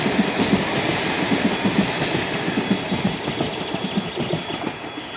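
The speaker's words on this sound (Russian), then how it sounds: "Чё она так медленно идет? Это же Аллегра." An Allegro train rolls slowly through Ozerki station in Saint Petersburg, a loud near rumble with a steady rhythmic clickety-clack of wheels over rail joints continuing throughout.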